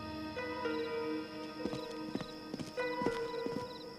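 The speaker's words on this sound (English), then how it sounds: "Suddenly, they heard footsteps." Footsteps in the animated Journey to the West series, a run of rhythmic hard clopping steps at night over sustained musical tones, with no talking.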